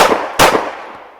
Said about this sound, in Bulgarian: изчакай за трети изстрел.